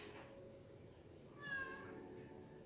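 A cat meows once, a short rising cry standing out above a steady low background hum, with no one talking.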